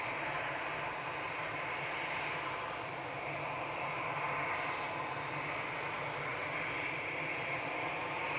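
A TUI Boeing 737 airliner departs for Palma with a steady, distant jet engine roar that holds even and faint throughout, and no other sounds break in.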